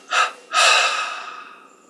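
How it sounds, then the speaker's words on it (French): A person exhales in stages during a deep-breathing exercise: a short breath out, a pause, then a longer breath that slowly fades away, close and clear with no talking. "On expire en 3 fois."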